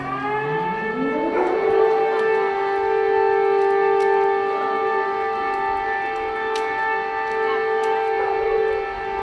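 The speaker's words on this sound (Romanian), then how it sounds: "Și știți ce reprezintă semnalele pe care le transmite sirena?" A civil defense siren sounds during a public alarm exercise in Bacău, Romania, rising in pitch over the first two seconds and then holding a loud, steady wail with rich harmonics for the rest of the clip.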